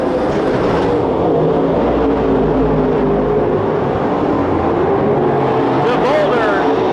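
Super stock race car engine at Petaluma Speedway during a main event, a loud, rough engine roar with wavering pitch under continuous race commentary, the car pulling past near the end.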